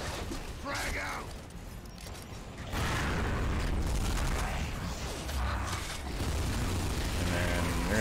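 A frag grenade goes off in Gears of War 2 as a deep, rumbling boom that swells and lingers amid mechanical clanks and game noise, with talking over it.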